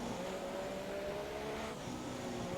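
Onboard a Formula 1 car through Lecombe at Spa in Belgium, a steady engine drone held at moderate, not full, revs in 4th gear with a slight pitch rise, the sound constant and fairly close.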